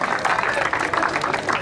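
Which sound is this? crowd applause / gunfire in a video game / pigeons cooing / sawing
crowd applause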